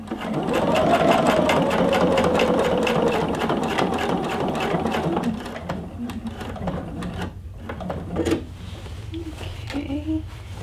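A sewing machine stitches a patch onto a scrubs sleeve in a fast, steady clatter up close, then slows into a few short bursts near the end while someone speaks briefly.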